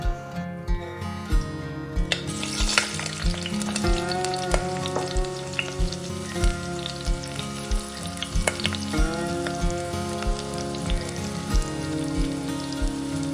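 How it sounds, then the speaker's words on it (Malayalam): Mustard seeds frying in hot coconut oil, giving a continuous loud sizzle dotted with rapid sharp pops and crackles, close and steady throughout with no voices. "എണ്ണ നന്നായി ചൂടായി കഴിയുമ്പോൾ ഇതിലേക്ക് 1/2 ടീസ്പൂൺ കടുക് ചേർത്ത് കൊടുക്കാം."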